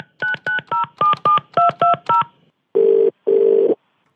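Phone keypad tones beep in a quick run of about ten short dialed digits, followed after a pause by two longer ringback tones as the call connects, clear and close with no talking.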